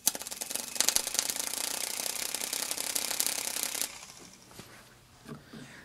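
A series-wound universal motor runs on DC with a loud, dense, buzzing mechanical whir for about four seconds, then shuts off and winds down into quieter scattered rattles. No voices.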